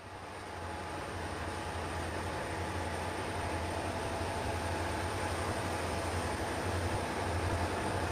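Freight train hauled by 4-axle EMD locomotives climbing a stiff grade on the Portland and Western Toledo branch: a steady, loud diesel drone with a low engine throb and a high whine, building in the first second then holding constant.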